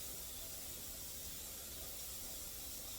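A pressure canner full of sweet corn vents steam in a steady, even hiss that holds at a constant faint level from start to finish with no other sounds.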